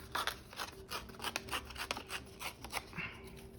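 Paper torn slowly along an edge for a mixed-media art piece, giving a series of dry, crackling rips and rasping bursts at close range over about three and a half seconds, with no talking.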